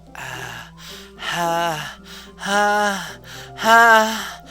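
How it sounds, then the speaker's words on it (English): Three sharp, voiced inhaled gasps from the video game Doki Doki Literature Club, each a short rising breath louder than the last, separated by brief pauses over a low steady hum. "It sounds like breathing. A sharp inhale"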